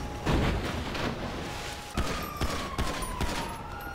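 Police firing at the player in a video game, a rapid fusillade of gunshots with several sharper cracks standing out over a constant loud game background.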